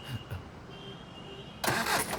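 A vehicle engine cranks and catches near the end after a stretch of quiet background, firing up with a sudden broad roar.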